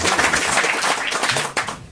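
Studio audience on a French television show applauding, a loud, dense burst of clapping that carries on steadily and tails off near the end.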